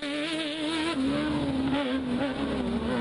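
A Fiat 500X race car fitted with a BMW engine roars loudly and continuously at an off-road speed event in Cingoli, its engine note rising and falling as it revs through the run.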